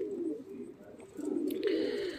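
Pigeons coo softly and repeatedly at a racing loft during feeding time, a low murmuring bird sound that swells and grows busier toward the end, with faint higher noises layered above it.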